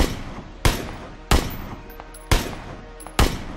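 Four loud, sharp gunshots ring out in the PUBG video game, evenly spaced about a second apart, each with a short decaying tail and no voices over them.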